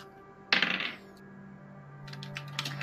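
Dice rolled for a tabletop game stealth check, a sharp clattering tumble on a hard surface followed by lighter rattling and settling clicks a moment later, close and alone.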